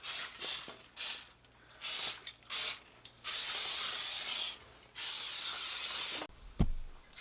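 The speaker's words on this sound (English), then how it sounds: "I'm just gonna spray them with a little bit of olive oil" Olive oil is sprayed into cupcake liners in a series of short hissing spritzes, followed by two longer sustained bursts. The spray is close, with brief pauses between bursts and a soft knock near the end.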